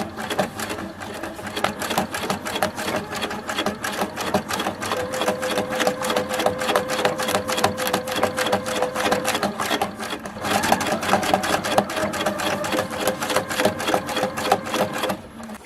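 A domestic sewing machine running steadily for free-motion stitching on scrappy fabric tags, its needle hammering in a fast, even rhythm at close range with only brief changes in pace and no voices.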